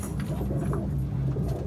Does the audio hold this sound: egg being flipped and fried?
no